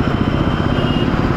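Heavy road traffic on a long jam in Meghalaya gives a dense, close rumble of idling motorcycle and car engines that stays continuous and loud, with no clear voices.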